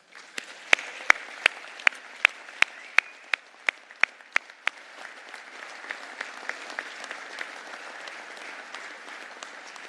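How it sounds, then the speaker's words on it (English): Applause from an audience at an award banquet, with scattered sharp individual claps standing out early over a steady wash of clapping that fades to a softer patter. "give each other a round of applause"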